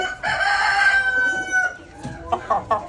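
A Laijja hill rooster lets out one loud, close crow, a long strained call that trails off, followed by a few short clucks.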